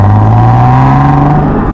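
A car exhaust fitted with high-flow sports catalytic converters drones loudly and close, a deep steady rumble with a slight rising pitch held for under two seconds.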